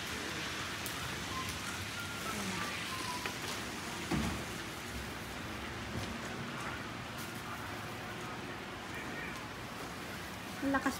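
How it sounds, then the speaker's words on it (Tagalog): Heavy rain pours down steadily in Hokkaido, Japan, a dense, loud, continuous hiss of drops on surfaces lasting throughout, with a brief louder patter near the middle and another near the end. "Lakas po ng ulan."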